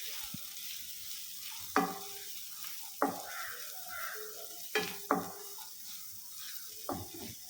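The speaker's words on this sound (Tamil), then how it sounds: "இஞ்சி பூண்டு பச்சை வாசனை போகிற வரைக்கும் வதங்கட்டும்." Crushed ginger and garlic sizzle in melted butter in a pan, a soft steady frying hiss broken by about six sharp scraping stir strokes, close and fairly quiet.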